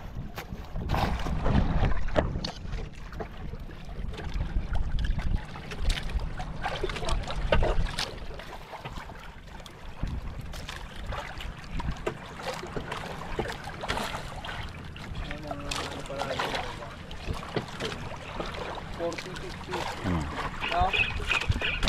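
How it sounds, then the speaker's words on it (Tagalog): Choppy waves slap and splash against a small fishing boat during ultralight fishing off Palawan, a continuous irregular wash with wind noise, close to the microphone, while people talk over it. "Medyo maalon pa rin."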